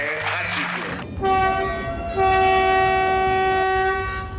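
The horn of a Transgabonais train in Gabon sounds loud and close in long sustained blasts, the steady tone resuming after a short break, over the rumble of the train.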